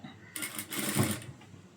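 A sewing machine stitches a blouse in a short run of about a second, starting abruptly and stopping, fairly close and clear with no talk over it.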